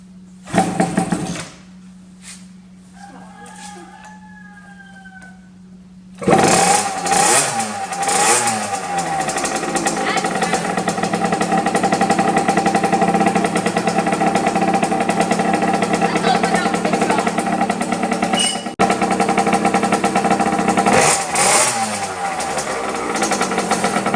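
A small pocket bike engine idling with the choke on, starting up after a brief quiet stretch and then running as a loud, steady buzzing idle close by, with people talking briefly before it starts.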